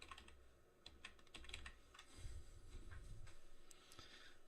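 Computer keyboard typing during a photo editing session, a quiet close-up run of irregular key clicks with a soft low rumble underneath and no speech.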